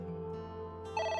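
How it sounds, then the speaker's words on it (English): A telephone rings in a steady electronic tone pattern that grows brighter near the end, clear and close, with no talking over it. "It's the phone."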